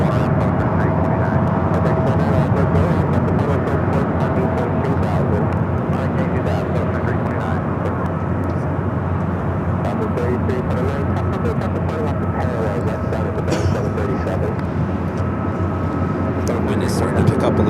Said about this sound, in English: This flight heading to Salt Lake City in A321 Neo.